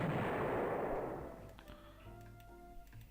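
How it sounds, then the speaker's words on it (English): Torpedo hits on warships in the naval strategy game Rule The Waves 3: a loud, broad rumbling blast that fades over about a second, then quieter tonal game tones and faint ticks. "why do we keep taking torpedo hits?"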